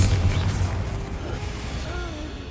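A Confringo fire spell blasts during a final battle in the Hogwarts Legacy video game, giving a heavy booming explosion that rumbles and fades over a couple of seconds. Faint creaks and distorted tones hang in the tail.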